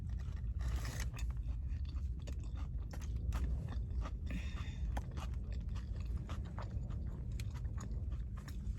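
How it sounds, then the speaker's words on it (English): Close chewing and crunching of vegan fast food during a mukbang, irregular wet bites and scraping mouth sounds repeating steadily, with no talk. "Chew up all the food and then let it sit."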